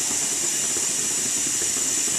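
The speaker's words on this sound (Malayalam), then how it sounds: "ഇനി ഇതേ ചട്ടിയിലോട്ട് തന്നെ കുറച്ച് നെയ്യ് ഒഴിച്ചു കൊടുക്കണം." Ghee poured into a hot pan for Kerala erissery sizzles in a steady, loud, even hiss that holds without a break from start to finish.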